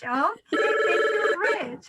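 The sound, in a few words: telephone ringing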